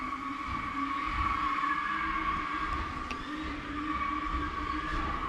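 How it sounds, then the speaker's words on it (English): A car does a burnout nearby, heard as a sustained, slightly distant engine drone with a high tire squeal riding over it, steady and unbroken with no talking. "Someone's doing a burnout."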